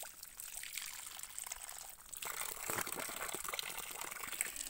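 Cold natural water pours and gushes with a soft, steady trickling wash that grows fuller partway through, quiet and close.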